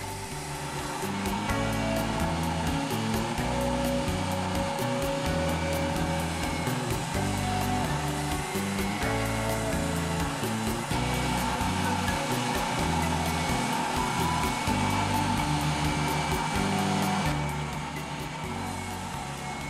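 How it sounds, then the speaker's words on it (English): An oscillating spindle sander shapes a wooden guitar neck, smoothing the transition from the nut to the headstock face: a loud, close motor drone with steady rhythmic pulsing that runs the whole time, with no talking. "Using an oscillating spindle sander, I am creating a smooth transition from the nut to the face of the headstock"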